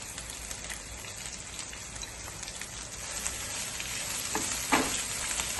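Curry leaves and onion fry in hot oil for an egg curry, giving a steady dense sizzle with no break, growing a little louder toward the end, with a faint stir heard near the close.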